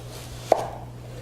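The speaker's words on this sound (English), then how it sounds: "we're going to take and cut right down through the center of that root." A single knife stroke cutting down through the center of a root, a short sharp chop onto a board, followed by a faint steady hum.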